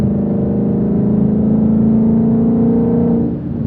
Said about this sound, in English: I'll show you us flooring it in 1 second.